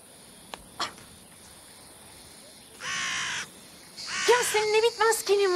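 Several crows caw loudly nearby in a quick series of harsh calls near the end, following a steady buzzing insect drone and a few faint clicks.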